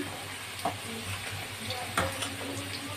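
Vegetable fritters (bora) for a raw-banana kofta sizzle steadily in hot oil, a constant crackling fry with a few louder clinks and stirring knocks, close and moderately quiet.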